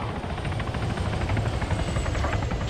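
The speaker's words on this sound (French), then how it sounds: "hélicoptère qui revient, il a besoin de gonner" A helicopter in the military game Arma 3 comes back in, its rotor thudding in a loud, steady chop with a constant engine whine, no voices over it.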